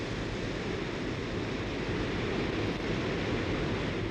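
Victoria Falls on the Zambezi River pours as a continuous heavy roar of falling water, a broad steady rush with no breaks.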